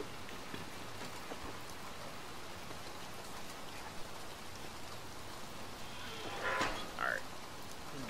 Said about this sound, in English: let's get out of this rain